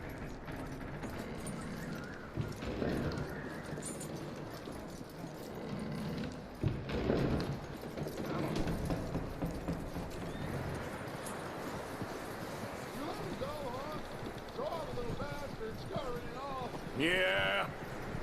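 Horse hooves clip-clopping in Red Dead Redemption II video game, a faint rhythmic patter of steps under wind and background game sounds, with someone talking over much of it.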